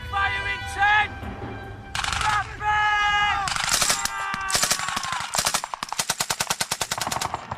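Rapid machine-gun fire in a Vietnam War battle setting from 1968, in close, loud bursts that build into a long, evenly spaced volley, with shouted voices and other noise mixed in early on.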